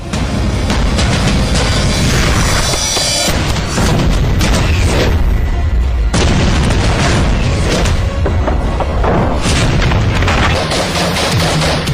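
Rapid bursts of gunfire from guns being demonstrated, loud and close, booming shots and sustained automatic fire with a brief pause midway and no talking.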